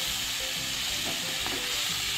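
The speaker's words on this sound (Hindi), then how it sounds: "अब हम इसको चलाएंगे।" Spring onion sabzi with chana dal and spices sizzles steadily in a pan, a dense continuous frying hiss with faint stirring scrapes underneath.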